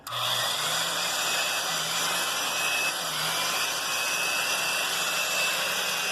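A Black and Decker home utility drill press motor spins steadily after starting with an abrupt onset, giving a constant loud whirring hum with a high whine, running alone without speech.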